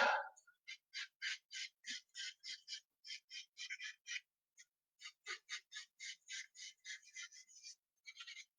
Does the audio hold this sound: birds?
yes